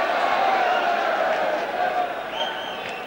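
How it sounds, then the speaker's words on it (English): Rugby league stadium crowd reacting to a referee's decision at a St Helens versus Bradford match, a broad loud roar of voices that slowly eases, with a commentator talking over it. "you can hear what the crowd think of that"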